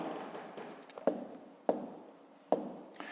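Pen or chalk writes numbers during a school maths exercise, three sharp tapping strokes with short scratchy trails, close and quiet, with no speech.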